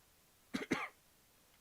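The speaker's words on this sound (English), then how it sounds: "Sorry, I got a little cough going today." Two quick, close coughs from a man with a cold, sharp and dry, in an otherwise quiet room with a faint click at the end.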